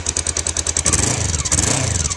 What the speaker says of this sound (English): Hear the little blow, it's not too bad.